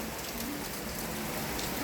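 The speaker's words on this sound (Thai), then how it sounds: "เสียงฝนตกคุณเห็นไหม" Steady morning rain pours down all at once onto a street, a dense even hiss of drops on surfaces, continuous and fairly close with no talking.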